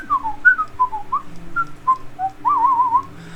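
A person whistling a wandering tune of short notes and slides, ending in a warbling trill, clear and alone.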